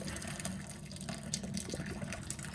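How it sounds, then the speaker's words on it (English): Water poured from a container into a strainer in a kitchen sink while cleaning a brass mouthpiece, a soft, steady splashing trickle heard close and continuous throughout. "pour this water out"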